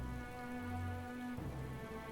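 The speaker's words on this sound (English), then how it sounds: "It's pissing it down." Heavy rain pours steadily in a storm in the video game Metaphor ReFantazio, a dense, even wash of falling water with a low tonal game hum running beneath it, no voices.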